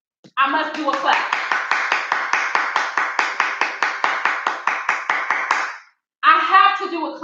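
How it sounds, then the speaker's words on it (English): A single person claps steadily about twenty times in an even, rapid rhythm, close and loud, then stops briefly before a voice begins speaking. "I have to do a clap."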